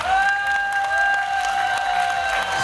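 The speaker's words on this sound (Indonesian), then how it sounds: "Tepukan." An audience claps steadily at a Yamaha carnival lucky draw, with dense, even applause under a sustained tonal hum from the venue's sound system.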